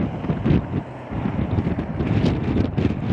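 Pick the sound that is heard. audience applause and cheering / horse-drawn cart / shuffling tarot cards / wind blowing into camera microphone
wind blowing into camera microphone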